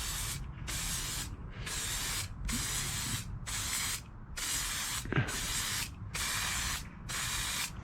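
Aerosol can spraying truck bed liner onto a Team Corally Murac RC chassis from about 30 centimeters away, close hissing bursts in a steady rhythm of roughly eight spurts with short gaps between them.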